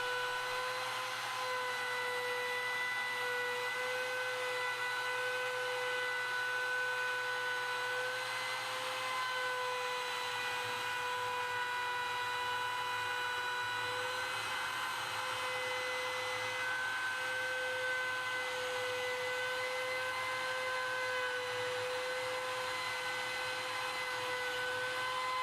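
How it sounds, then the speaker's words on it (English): A plunge router cuts a sign along a Milescraft SignPro template. A steady, high-pitched motor whine holds for the whole stretch with a faint cutting grind beneath it, close and continuous, with no voices. "Plunge the router down and run the bushing tight against the template, moving in a clockwise motion"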